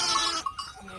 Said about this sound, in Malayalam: ചെമ്മരിയാടാണ് അത്.